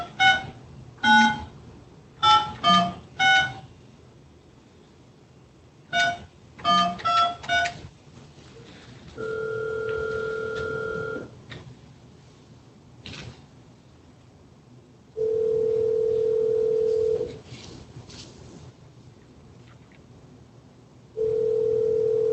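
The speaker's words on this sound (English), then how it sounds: "Let's dial him up." Telephone tones during dialing into a district court arraignment: quick bursts of touch-tone dial beeps followed by two longer steady dial-tone segments and a third starting at the end, clear and close with no talk.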